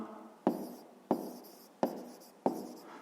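A pen scratches on paper while someone writes out a grade-five math exercise, four distinct strokes or words in an even rhythm, each starting with a sharp tap and trailing off, close and quiet with no talk.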